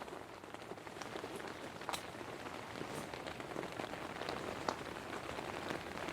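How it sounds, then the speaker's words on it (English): Steady patter of rain drumming on a cheap thin tent, with occasional louder drips standing out; soft, continuous and close by. "It's not really been raining that bad."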